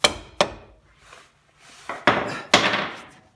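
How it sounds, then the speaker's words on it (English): A hammer striking a steel pry bar wedged at the CV axle of a 2006 Toyota Sequoia gives sharp metallic taps: two spaced hits, then a quick cluster of three louder ones, close and ringing briefly with no voices. "This one I'll give it a little tap with the hammer."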